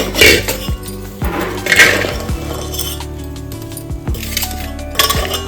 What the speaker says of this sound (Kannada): ಇದು ಫಸ್ಟು ತೊಳ್ಕೊತಾ ಇದ್ದೀನಿ